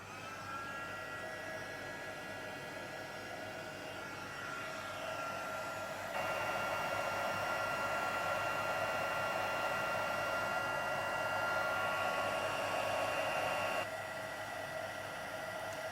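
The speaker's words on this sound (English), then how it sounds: "So we're going to heat that with the heat tool until it goes clear." A heat tool blows hot air to melt embossing powder until it turns clear, giving a steady, loud whooshing roar that runs the whole time, briefly stepping up in intensity midway with no voices over it.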